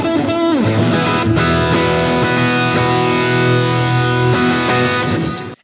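Electric guitar plays a blues rock solo through an overdrive pedal, thick saturated sustained notes and bends, loud and continuous, ending with a quick fade.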